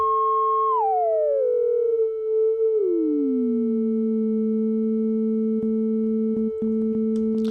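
A steady, pure sine-like tone from a 1974 Minimoog's self-oscillating filter near 440 Hz slides down in pitch and settles into a low sustained drone, with faint clicks near the end.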